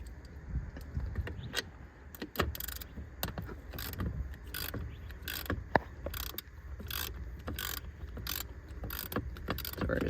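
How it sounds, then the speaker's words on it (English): A hand ratchet loosening a 10mm nut on the 12V battery of a Lexus HS250h, giving quick, faint clicking bursts in an irregular rhythm over low background rumble. "We'll go ahead and ratchet that off."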